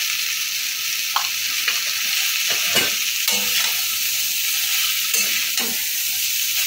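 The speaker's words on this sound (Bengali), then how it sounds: "আমি অল্প করে পুরো চাউটাই দিয়ে দিয়েছি, আর সয়াবিনগুলোও পুরোটা দিয়ে দিয়েছি, দিয়ে থেকে নেড়েছি" Chowmein noodles and soya chunks frying in a pan, stirred with a utensil: a steady broad sizzle under repeated scraping strokes against the pan, close and continuous with no talk.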